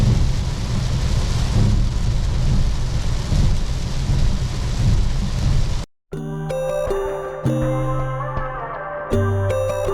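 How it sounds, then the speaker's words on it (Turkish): Heavy rain pours down during a long road trip from Amasya to Rize, Turkey, a dense, steady hiss for about six seconds before it cuts off abruptly and music takes over. "Fena yağıyor, fena."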